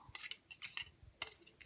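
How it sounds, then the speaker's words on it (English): Metal forceps scrape copper off a washer held in place with a stir rod in a chemistry lab experiment, giving several short, scratchy metallic scrapes that are close but faint. "I'm using the forceps to scrape off"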